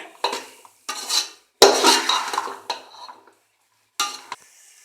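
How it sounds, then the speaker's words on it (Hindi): Potatoes and onion being fried in a pan as a step in making black chickpea chaat, heard as bursts of metal utensil scraping and stirring against the pan with a soft sizzle, close and fairly loud, with short pauses between strokes. "इसको हम लोग भून रहे हैं अभी"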